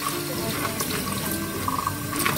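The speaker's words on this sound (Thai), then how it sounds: "เริ่มเทน้ำออกแล้วฮะ" Water being poured out of a container after coins were cleaned with ketchup, a steady close splashing trickle with small gurgles running for a couple of seconds.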